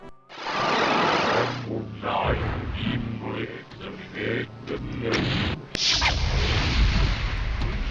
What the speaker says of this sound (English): The goal is simply to fire timed rockets from a rising platform in the cavity of the gigantic demon's forehead on the wall